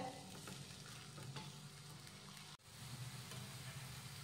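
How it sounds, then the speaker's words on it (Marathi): Sesame tilgul poli roasts in ghee on a hot tawa with a soft, steady sizzle and faint crackle, quiet and close, with a brief dropout partway through. "आता ही पोळी भाजून घेऊयात।"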